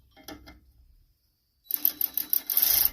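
A socket wrench works loose an 8mm bolt holding the belt guard on a John Deere LT180 riding mower's 48-inch deck, giving a quick run of close, sharp metallic ratchet clicks after a brief quiet pause.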